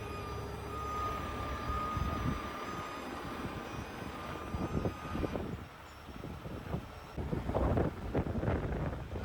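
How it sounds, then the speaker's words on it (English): Wind buffets an iPhone microphone outdoors beside a trailer carrying a boom lift, producing low rumbling gusts that swell and fade, strongest toward the end, with a faint steady tonal hum behind. "I don't know if the iPhone right now picks up on that wind"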